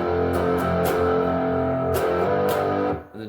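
Distorted electric guitar strums chords in a steady down-up pattern for a song lesson, full and loud up close, a few sharper accented strums, tapering off at the end.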